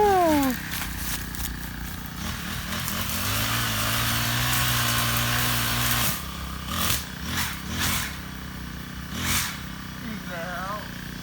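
A grass trimmer cutting grass outdoors, its engine droning loud and steady, then revving up and down in several surges, with voices talking over it.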